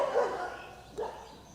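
Several dogs bark outside a house, two short muffled barks from a distance, faint and separated by a brief pause.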